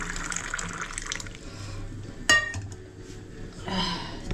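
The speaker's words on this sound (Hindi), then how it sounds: "पानी डालते हैं।" Water pours close up in a kitchen, a bright splashing stream with a sharp clink of a vessel midway and a brief surge near the end, with no speech over it.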